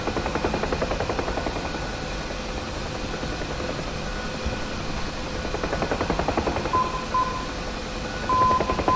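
Morse code navigation beacon ident from a radio aid heard in the cockpit of a UH-1H Huey helicopter in DCS, short tone dashes near the end over a loud, continuous rotor and engine drone.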